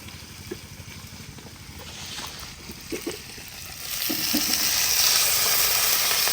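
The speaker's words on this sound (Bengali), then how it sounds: "জল দিয়ে দেব।" Water is poured into sizzling fried vegetables in a pot for chicken khichuri; the low crackle of frying swells into a loud, rushing hiss as the water hits the hot pan.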